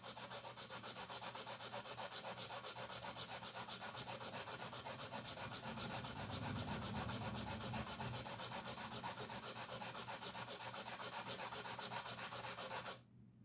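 Aluminum gunstock tabs are sanded by hand with 180 grit sandpaper against a flat surface, a steady close rasping rub in quick even strokes that runs for about thirteen seconds and then stops abruptly, with no speech.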